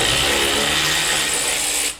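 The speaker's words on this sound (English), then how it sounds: "let's unbolt a fucking downpipe" A ratchet works loose a downpipe bolt behind the turbo on a 2002 Subaru WRX bugeye, a loud, continuous close-up mechanical grinding and rasping that runs for about two seconds and then stops abruptly.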